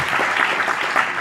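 Audience applause at a live talk-show recording, a steady wash of clapping from a crowd, fairly loud and continuous with no talk over it.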